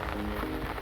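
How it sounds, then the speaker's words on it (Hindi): Heavy rain pours steadily in a hilly area, a dense even hiss of drops on surfaces with no pauses. "और बहुत तेज़ बारिश लग रही है भाई, बहुत तेज़।"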